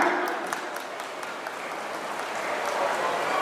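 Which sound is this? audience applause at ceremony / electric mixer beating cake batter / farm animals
audience applause at ceremony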